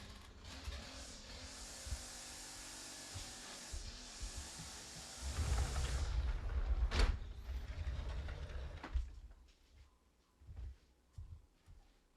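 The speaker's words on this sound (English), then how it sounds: "so I'm just going to close the door." A door is pushed shut indoors to block very loud machines running outside, the machine roar dropping away afterward and leaving a quieter room with a few faint bumps.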